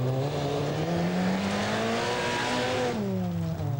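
A Ford Sierra Cosworth Group N rally car at the 1988 RSAC Scottish Rally roars with a loud, sustained engine note. The pitch shifts as it revs and changes gear near the end.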